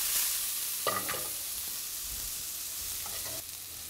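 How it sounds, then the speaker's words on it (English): Fresh onions sautéing in a pan give a faint, steady sizzle with a couple of brief stirring scrapes. "We're gonna let it sauté for about 20 seconds."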